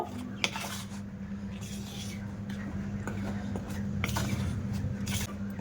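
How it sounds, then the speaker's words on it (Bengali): Dry ingredients for donut dough are stirred together in a bowl, giving soft, continuous scraping and light utensil clinks over a steady low hum, fairly close and quiet. "এবার আমি শুকনো উপকরণগুলো বেশ ভালো করে মিশিয়ে নেব"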